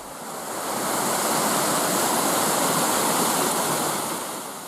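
The Zhenetskyi Huk waterfall in the Ukrainian mountains pours in a steady, loud, broadband rush of falling water that swells in and holds constant, with no voices.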